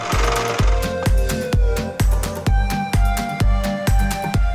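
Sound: people striking a glass bridge with hammers

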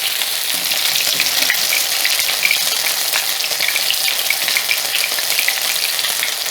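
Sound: potato pancakes (deruny) frying in a pan

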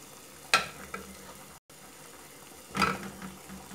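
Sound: food frying in a pan with salt and spices

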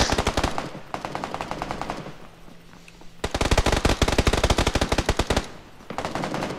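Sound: gunfire in the PUBG video game on Miramar

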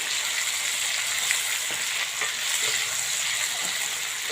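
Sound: tomato and onion frying in oil

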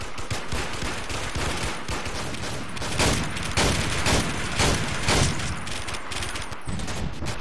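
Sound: shotgun firing in the video game Warmode

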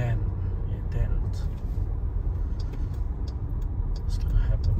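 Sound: stuck truck's engine running with tires spinning

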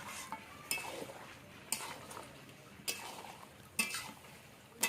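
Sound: mutton being stirred and cooked down in a pot

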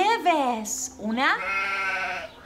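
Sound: sheep bleating

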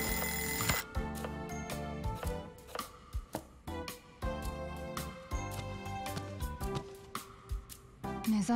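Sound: alarm clock ringing in the video game Lost Judgment

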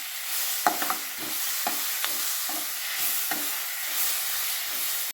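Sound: sautéing guava with salt in a pan for chutney

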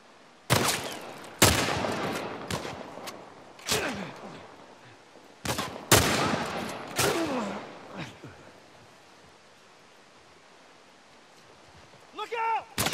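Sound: gunfire in The Last of Us Part I video game

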